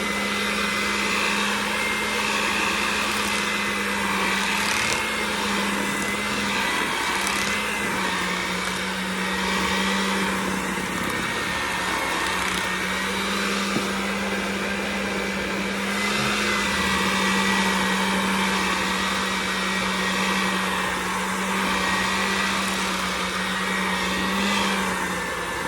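An electric mixer whirring steadily through thick cream cheese cake batter as dry ingredients are combined, a loud continuous motor drone with a constant hum and slight wavering, no talking.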